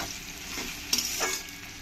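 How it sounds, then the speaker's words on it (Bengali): Onions sizzle in hot oil at a moderate level, frying until reddish-brown, with a couple of brief scraping stirs breaking the steady crackle. "পেঁয়াজটা ভালো করে লাল লাল করে ভাজা হয়ে গেছে"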